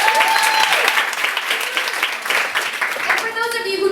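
An audience at a burlesque comedy talk at The Institution Theater applauds loudly and continuously, dense clapping filling the room with a few cheers rising through it.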